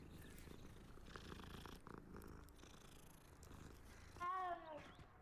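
A cat purrs steadily in the Hogwarts Legacy video game, a continuous low rumble throughout, ending with a brief louder higher-pitched mew near the end.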